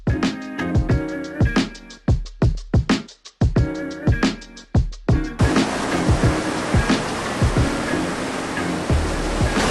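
Ocean waves break and wash up on Viking Beach on Phi Phi Island, Thailand, loud and close. Crashing surges come in bursts at first, then settle into a steady roar of surf.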